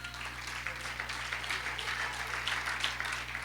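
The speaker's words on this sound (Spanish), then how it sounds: "Dele un aplauso al Señor." A church congregation claps for the Lord during a sermon, a steady, moderately loud patter of many hands over a constant low electrical hum, continuing for a few seconds without speech.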